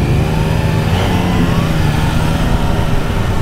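Yamaha Niken three-wheeled motorcycle engine pulling away on the road, a steady, loud mid-pitched drone with a rising tone as it accelerates, close and continuous with no talk.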